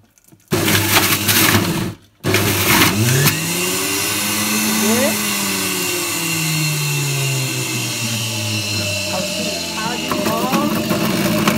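An electric blender whirs as it mixes carrots, a loud steady motor drone with a brief cut-out near the start, then a long continuous run with shifting pitch.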